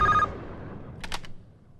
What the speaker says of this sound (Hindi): तो मिस्टर विशाल की माँ का फोन है, वो आपसे बात करना चाहती है